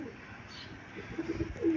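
Pigeon giving a few soft, low coos close by, faint and short, over quiet room background.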